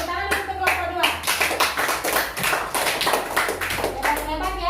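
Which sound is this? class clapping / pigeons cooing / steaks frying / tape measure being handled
class clapping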